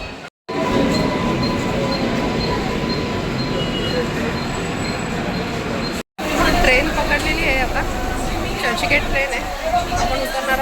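A Mumbai local train rumbles steadily at a platform, with rolling wheel noise and metallic screeches, under a murmur of crowd voices and brief dropouts.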